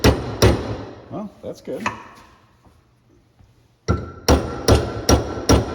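A grade 8 bolt on a truck sway bar link is hammered and bent: sharp, ringing metal blows land close and loud, two at the start and then a quick run of five after a quiet stretch where someone speaks briefly.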